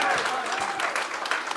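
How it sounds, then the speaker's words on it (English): An audience at an Essendon Football Club show claps continuously for a short burst, a dense crowd applause at moderate level with a voice faintly mixed in. "please put your hands together for Anthony McDonald, Tip and Woody, and Sam"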